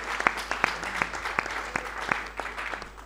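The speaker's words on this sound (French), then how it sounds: "Je pense qu'il faut qu'on applaudisse pour elle." An audience claps for the winner of a challenge, a smooth wash of applause that fades slowly, with a few sharp louder claps standing out in a regular beat over it.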